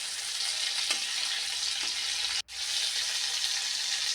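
Whole garam masala spices and a bay leaf sizzle loudly in hot oil, the oil having just been used to fry prawns for a prawn malai curry. The dense, steady crackle runs close throughout with one brief dip midway.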